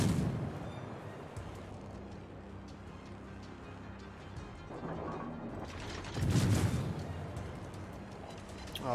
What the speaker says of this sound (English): Oh, Smolensk shooting at me.